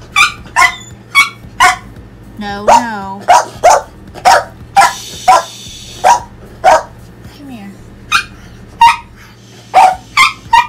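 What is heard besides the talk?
dog barking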